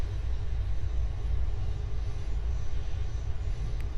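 A KR-860 aircraft flying in the video game Aeronautica, heard as a steady, low engine drone that holds constant at moderate loudness, with no voices over it.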